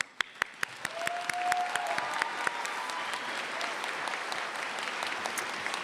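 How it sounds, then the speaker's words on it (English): A graduation ceremony audience bursts into applause, beginning with a few sharp individual claps before swelling into a dense, sustained wash of clapping from a large crowd. "Another round of applause."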